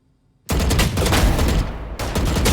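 Rapid automatic gunfire from the Phantom rifle in a tactical shooter match, loud continuous bursts starting abruptly after a moment of near silence, with a brief pause before firing resumes.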